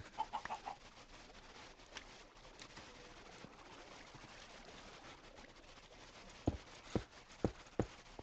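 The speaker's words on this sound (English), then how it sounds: "Chickens are following me." Chickens in the video game Minecraft give soft clucks and short calls, quiet over a low steady background, with a few sharper clicks near the end and no talking.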